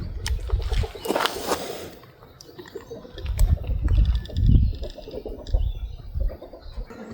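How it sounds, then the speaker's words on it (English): A blade cuts through layers of a split CV boot in irregular, effortful bursts of scraping and crunching, close by, with pauses between strokes. "Once again, we're going to try to cut off the first layer here. Not all that easy to cut."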